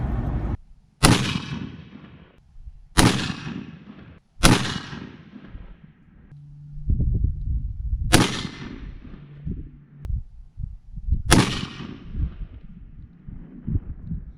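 Rifle shots fired at a farm in Kentucky to confirm the scope is still sighted in for deer season: about six sharp, loud reports spaced a second or two apart, each with a short echoing tail, with quieter rustling between them.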